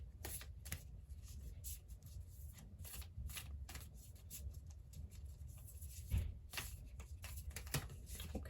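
A Work Your Light Oracle card deck is shuffled by hand, giving soft, quiet riffling and patters in uneven bursts against a faint background hum.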